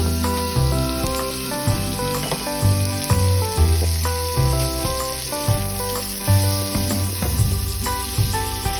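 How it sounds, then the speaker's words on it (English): Onions sauté in melted butter in a pan for beef stroganoff, giving a steady sizzle beneath prominent background music, with no talking. "Let this butter start melting down so you can saute your veggies. So go ahead and add in your onions."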